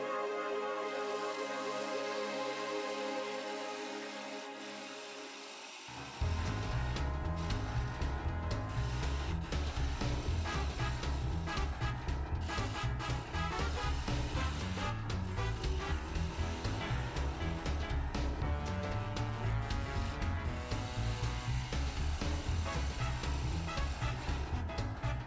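A wood lathe turns a wooden basket-illusion piece, cutting away an inclusion near the bottom bead. A quieter tonal hum gives way to a loud, steady, grinding whir that runs on unbroken.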